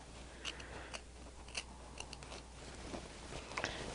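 Faint, crisp snips of small scissors trimming material for a stained glass project repeat at a steady pace, a few light clicks every half second with no voices.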